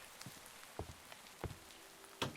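Rain falls in a video game world, heard as soft scattered patter with a few brief sharper drops, fairly faint and steady with no talking.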